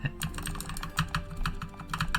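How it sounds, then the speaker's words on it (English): Steady clicking on a computer keyboard, with crisp individual keystrokes tapping in an uneven rhythm, close up and alone with no talking. "maybe I should do keyboard ASMR"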